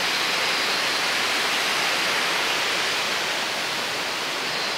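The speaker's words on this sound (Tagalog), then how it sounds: "na kami sa waterfalls!" Waterfall roaring as a loud, steady broadband rush of falling water that fills the whole span, close by with no pauses.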